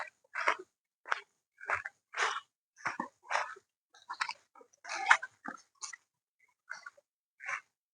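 Two puppies trapped after falling into a water tank cry in a string of short, high whimpering yelps, about a dozen separate bursts over several seconds, fairly close and with no talk over them.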